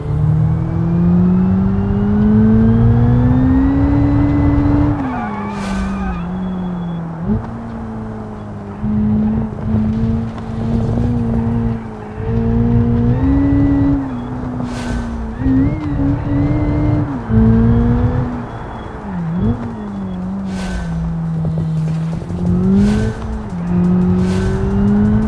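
A race car in the driving simulator BeamNG, engine droning loudly and steadily at high revs with pitch dips at gear changes and braking, tyres squealing at intervals through corners, heard from close by without talk.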